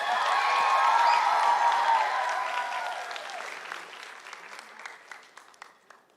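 An audience at a charter school graduation ceremony applauds, with dense clapping mixed with faint cheers that starts full and loud and then thins out into scattered claps over several seconds.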